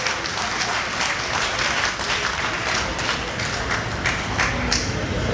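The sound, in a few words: audience applause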